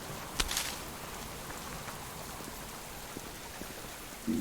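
Rain falling in the wilderness survival game Subsistence, a soft steady patter with scattered sharper drops and faint ticks, low and even throughout.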